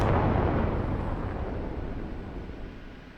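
An AGM-114K missile launches from an OH-58D Kiowa Warrior helicopter in the DCS combat flight simulator, a loud, broad whooshing roar that starts at full strength and slowly fades over about three seconds, heard alone with no talk.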